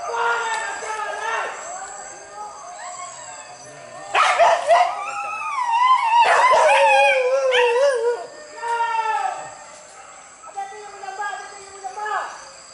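Several dogs bark, yip and howl in long rising and falling wails, close and loud at times, with brief gaps between bursts.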